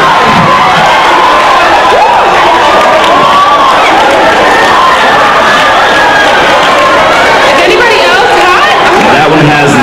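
A crowd at a college sorority-hosted pageant cheers and chatters loudly in approval, with continuous overlapping shouts and voices filling the whole stretch.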